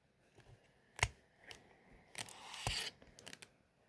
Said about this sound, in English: take the SD card out like so.